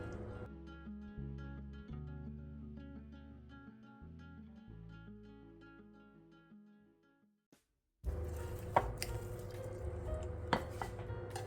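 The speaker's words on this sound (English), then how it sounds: "we're going to give it a good stir until it is just combined" A beaten egg is stirred into spiced tea bread batter, giving faint, soft wet scraping and squishing in a bowl. It follows a stretch of gentle music and a brief silence, with no voices heard.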